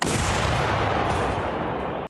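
A sustained, thunderous blast from self-propelled artillery with a long rumbling roar that fills the whole clip, loud and close, with no voices.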